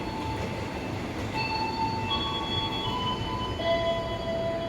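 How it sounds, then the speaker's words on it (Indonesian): An Inka-built KRL electric commuter train bound for Bogor rolls past nearby with a loud, steady rumble and high tonal wheel and motor whines rising over the din. "Wah, ada KRL Inka nih"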